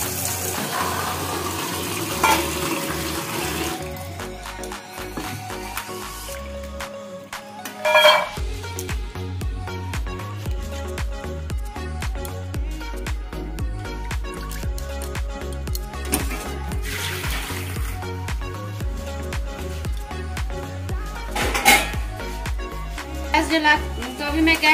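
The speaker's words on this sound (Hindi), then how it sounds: "अब मैं थोड़ा सा मटर को भी पहले धो लेती हूँ।" Peas being rinsed under a running kitchen tap, with water splashing and pouring while metal pots and utensils clink and clatter now and then, close by over the whole stretch.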